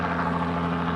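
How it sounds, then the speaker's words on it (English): A helicopter flies over a fishing spot in Alaska, its steady droning rotor and engine hum filling the air at a constant level with no break. "I got a helicopter"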